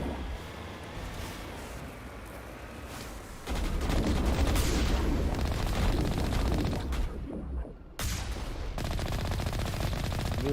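Cannon fire and combat in the video game Mass Effect 1: a dense, roaring wall of gunfire and blasts that swells louder partway through, with a brief drop before resuming, continuous and heavy throughout.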